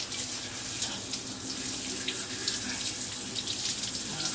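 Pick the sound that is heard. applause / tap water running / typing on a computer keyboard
tap water running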